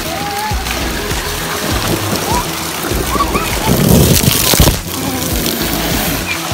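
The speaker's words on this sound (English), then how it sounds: "Oh, buckets of water on her head." Water splashes and sloshes as buckets are tipped over toy monster trucks during play, wet splattering bursts rising around the middle under continuous voices and chatter.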